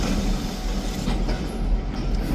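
A freight train with tank cars rolls steadily along the rails nearby, a dense continuous rumble with faint rhythmic clatter of wheels throughout.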